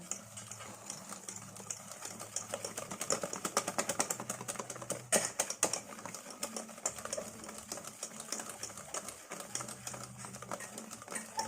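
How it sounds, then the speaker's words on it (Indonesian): Nastar cookie dough ingredients are whisked by hand in a bowl, producing rapid, rhythmic clicking strokes that grow busier and louder in the middle, then settle into lighter, quieter ticking. "lalu kita kocok lagi sampai bahannya jadi menyatu atau homogen"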